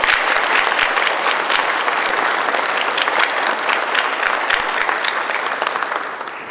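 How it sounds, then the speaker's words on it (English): Loud, close applause rises from an audience honoring veterans' spouses and family members, a dense burst of many clapping hands that tapers off slightly toward the end. "if we could give them a round of applause"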